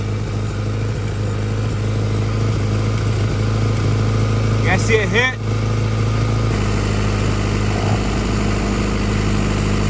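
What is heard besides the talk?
Honda Accord engine idling with cracked exhaust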